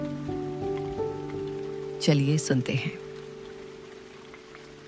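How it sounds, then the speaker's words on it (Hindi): Steady rain patters as a soft hissing ambience under gentle sustained musical tones, and a voice speaks briefly in the middle. "खिड़की के शीशे पर बारिश की बूंदें धीरे धीरे फिसल रही थी"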